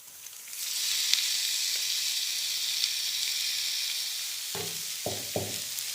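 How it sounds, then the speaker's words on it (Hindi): Marinated chicken sizzles loudly in a hot pan with softened onions, a steady bright hiss that holds throughout, broken near the end by a few stirring scrapes. "अब हम इसमें मैरिनेटेड चिकन ऐड कर देंगे"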